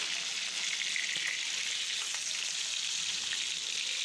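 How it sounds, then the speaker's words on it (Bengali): Koi fish (climbing perch) fry in hot oil in a pan, giving a soft, steady sizzle with faint crackles throughout and no talking. "এদিকে মাছটা উল্টায় পাল্টায় ভেজে নেই সুন্দর করে উল্টায় দিলাম"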